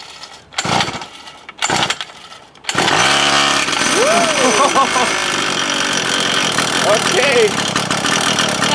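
Small two-stroke kids' dirt bike motorcycle engine pulled to start with the choke, catching after a few sputters and then idling loudly and steadily with a buzzing note, while people talk briefly over it.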